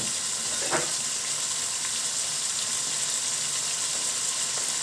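Beef sizzles and fries steadily in hot oil for Szekely goulash, a continuous close hiss with faint stirring clicks and no talk.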